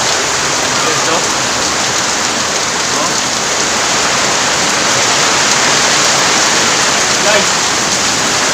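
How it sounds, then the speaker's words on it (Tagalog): Heavy downpour roaring steadily and loud, a dense unbroken hiss of rain pounding surfaces close by with no letup. "Lakas ang ulan."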